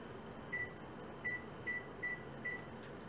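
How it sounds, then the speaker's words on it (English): An oven being set to preheat before baking a squash chocolate cake gives five short, clear electronic beeps at uneven intervals over a steady low room hum. "we will go ahead and preheat the oven"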